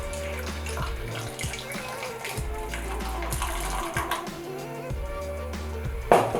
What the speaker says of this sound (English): Pour over fresh ice.